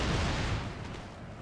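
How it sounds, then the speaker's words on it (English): A howitzer fires in the Napoleon Total War game during a Great Britain versus France battle, a single low boom that fades out over about a second. "Artillery reporting. Okay, one howitzer fire"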